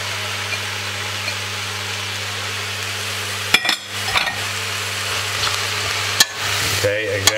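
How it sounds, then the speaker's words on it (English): Mushrooms sweating in a pan for a cream soup are stirred, giving a steady close sizzle broken by scraping stir strokes and a couple of sharp knocks, over a constant low electrical hum. "mix it all nicely up. Give it a little bit of a sweat."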